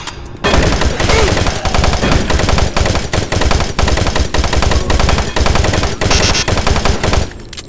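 Dense, rapid gunfire from a shotgun in the video game Doom 3 blasts continuously at full loudness for several seconds, shot after shot with no letup before cutting off near the end.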